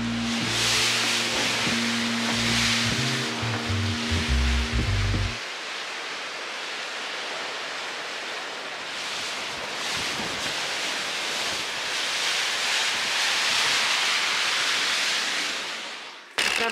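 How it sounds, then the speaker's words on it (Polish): Strong wind in Norway roars and buffets a microphone outdoors, a steady broadband rush gusting louder at times, after a brief musical intro at the start. "Nawet wystawię wam kamerkę na chwilę, żebyście usłyszeli wiatry Norwegii."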